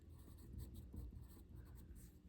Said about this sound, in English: So we'll write down Baker